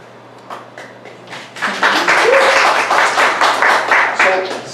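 An audience applauds after a reading, clapping that starts sparse and builds into dense, sustained applause, fairly loud, with a voice briefly heard over the start.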